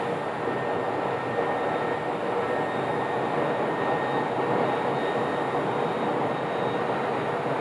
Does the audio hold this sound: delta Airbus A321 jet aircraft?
yes